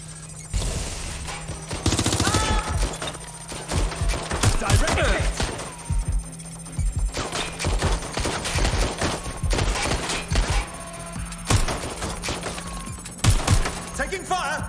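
Rapid bursts of gunfire in the video game Watch Dogs Legion, loud cracking volleys and shots in irregular clusters over about fifteen seconds, with a steady low hum and brief spoken lines between.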